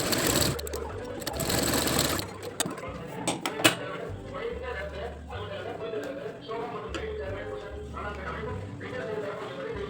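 Sewing machine stitching together the back and front pieces of a blouse, its motor running in steady bursts that stop and start with short pauses and small mechanical clicks, close by, with a voice talking over it.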